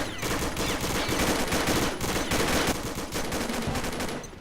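Dense, continuous video game gunfire, rapid and loud shots mixed with heavy rattling bursts that run without a break and play alone with no talk.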